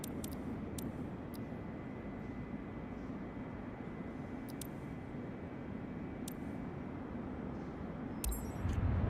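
A small two-seater aircraft's engine drones steadily in Microsoft Flight Simulator 2024, a quiet even hum broken by a few sharp clicks, rising a little louder at the very end.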